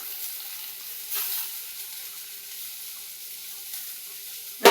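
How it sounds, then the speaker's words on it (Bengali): Shrimp bharta with chopped coriander sizzles softly in a hot pan, a steady faint frying hiss with a brief swell of stirring midway and a sharper clatter at the very end. "ভালো করে নাড়িয়ে দেব"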